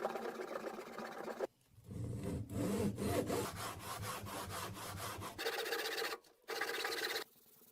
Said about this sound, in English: meticulously honing it with ever finer whetstones to achieve a precision edge